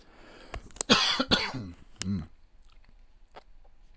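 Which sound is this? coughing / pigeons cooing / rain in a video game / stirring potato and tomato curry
coughing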